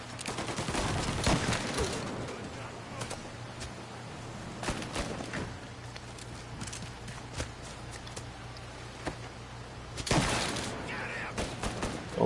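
Gunfire in the Mafia Definitive Edition game, scattered sharp shots and a burst of rapid fire over a low engine-like drone, fairly loud, with a voice speaking briefly.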